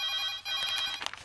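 A landline telephone rings in a Telugu comedy film scene, a bright electronic trill repeating steadily for about a second, close and clear with no voices over it.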